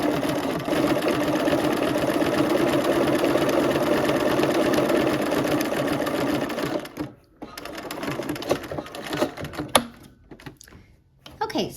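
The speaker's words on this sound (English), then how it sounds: "I'm going to use a buttonhole stitch. And we're just gonna go ahead and stitch around both sides of this handle." A sewing machine runs steadily, stitching a buttonhole stitch around a bag handle, then slows to short stop-start runs, with a voice talking over it.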